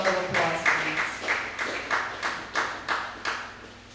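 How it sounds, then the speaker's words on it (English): Applause from a panel discussion audience, a steady patter of clapping with rhythmic surges roughly every half second, moderately close and fairly loud, with no voices over it. "Give them a rousing round of applause, please."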